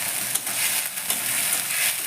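Tomato goes into spice paste of chilli and ginger paste frying in a pan, giving a continuous close hiss and sizzle with light stirring and no talking.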